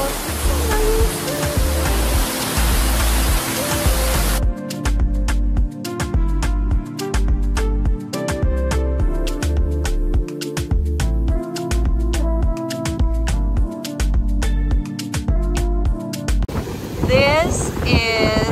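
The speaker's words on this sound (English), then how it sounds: "we came into this cascading waterfall" Loud roaring rush of a powerful cascading waterfall in New Zealand on the Milford Track fills the opening seconds, then rhythmic music with a thumping beat takes over.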